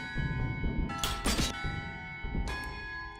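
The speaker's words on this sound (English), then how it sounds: "Oh, these wretched bells!" Bells ring out in the video game Shadows Over Loathing, with two bright clangs about a second apart over a steady droning game background, fairly close and loud, with no talking.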